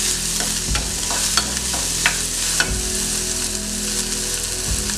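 Banana flower stir-fry with green chillies sizzles loudly over a high flame, a continuous crackle broken by scraping stirring strokes in the pan.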